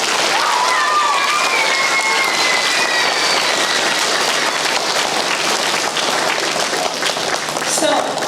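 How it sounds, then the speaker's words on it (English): An elementary school audience at a Veteran's Day program claps for honored guests, a dense, loud round of applause that continues steadily without a break. "give them another round of applause"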